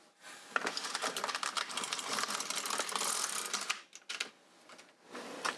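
The carriage of an LK150 knitting machine is pushed back across a row of sport weight yarn, giving a steady clattering, ratcheting run for several seconds before a brief pause and a few more clicks, close-up and moderately loud.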